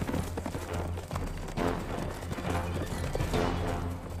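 Horses in a cartoon clip-clop steadily at a brisk pace while neighing and whinnying, loud and close against a busy background.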